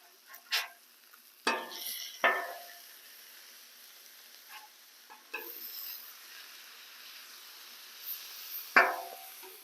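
Smash burgers cooking on a Blackstone griddle for an Oklahoma onion smash burger, with a faint sizzle beneath several sharp spatula scrapes and clanks scattered through the stretch.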